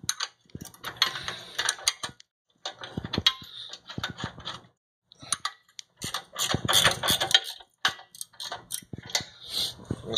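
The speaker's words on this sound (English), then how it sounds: "I'm going to tighten down the motor going in a cross pattern." A ratchet wrench tightens the mounting bolts of a base-mounted pump motor in a cross pattern, giving close, rapid clicking runs in irregular bursts with short pauses between them.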